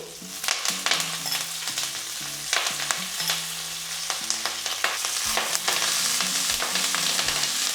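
Wet drumstick leaves (moringa) hitting hot oil with small sambar onions in a pan, giving a loud, steady sizzle dotted with sharp pops and spatters throughout, with no talking.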